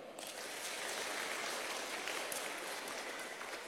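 Crowd applauding at a large open-air Islamic religious gathering in South Bangka, a steady wash of clapping, fairly distant and even, sustained without pause.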